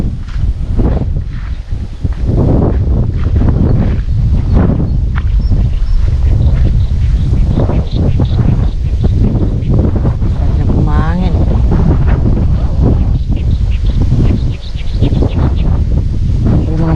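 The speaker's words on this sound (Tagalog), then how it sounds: "grabe na po yung hangin baka di na po tayo makakuli" Strong wind gusts buffet the microphone in a continuous loud roar, with a voice faintly heard briefly beneath it.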